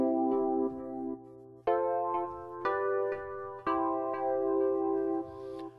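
Soft synth patch from Reason's Subtractor with added chorus and echo, a slow series of clean sustained notes played one after another, each ringing with a gentle shimmering tail over a low steady hum.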